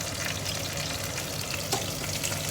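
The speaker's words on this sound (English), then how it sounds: "I can see it's slowly boiling now" Fish escabeche sauce bubbling and sizzling steadily in a pan, a continuous close frying hiss with faint pops and no talking.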